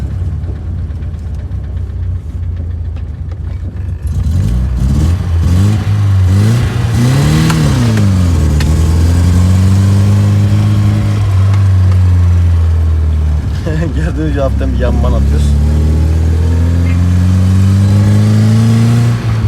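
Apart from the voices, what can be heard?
BMW E30 car driving and accelerating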